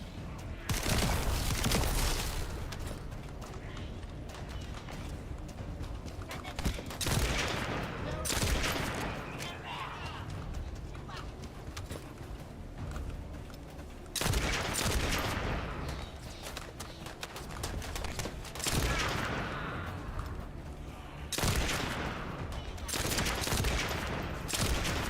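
Repeated bursts of gunfire from shooting enemies in the sci-fi looter shooter The First Descendant, loud volleys clustered in waves across the clip with brief lulls between, over steady game ambience.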